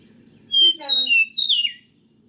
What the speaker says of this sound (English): Okay, hear that? Meadowlark.